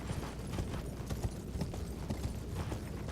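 Horse hooves clip-clopping at a steady trot in Elden Ring, a continuous rhythmic patter of close, fairly loud footfalls heard alone with no talking.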